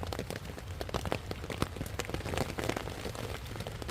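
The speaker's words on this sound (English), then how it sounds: "and then all of a sudden it just starts raining heavy again." Heavy rain drums on a tent at a stealth camp during an English summer downpour, with dense, constant close tapping and no one speaking.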